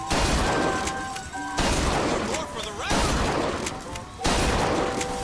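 Gunfire in the BioShock Infinite game: rapid bursts of shots in several loud clusters separated by short pauses, with a voice talking over part of the action.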